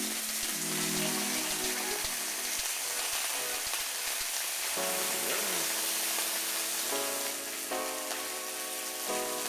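A cod fillet pan-sears in hot oil, a loud continuous sizzle and crackle spattering throughout, with tonal background music layered over it.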